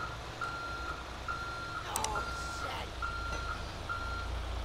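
Reversing beeper on a Benny's Ford F-450 tow truck backing up in GTA 5, a steady evenly spaced series of loud beeps over engine rumble, with a brief clatter midway.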